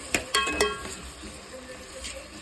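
Tomatoes and salt stirred in a cooking pan, three quick metallic clinks of a spoon against the pan followed by a low steady sizzle.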